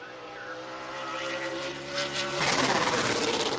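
A Late Model race car from Jacob Gady's Chase Motorsports #47 team runs a qualifying lap at La Crosse during Oktoberfest, its engine droning steadily and then swelling louder and harsher as it passes close by, with no one talking.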